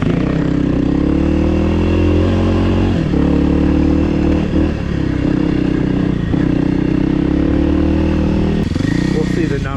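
A 2024 Kawasaki KLX300R dirt bike rides a wooded singletrack trail, its engine droning loud and close with changing revs and brief throttle dips, and a rattle of the bike over rough ground throughout.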